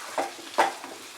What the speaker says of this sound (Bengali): টমেটোটাকে মশলার সঙ্গে ভালো করে মিশিয়ে নেব।